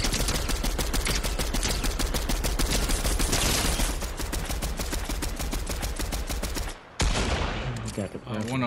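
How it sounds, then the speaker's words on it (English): Rapid bursts of gunfire in a Fortnite no-build ranked match, dense automatic shots layered over each other for several seconds, then a brief break followed by a few more sounds near the end. "Somebody shooting behind us too."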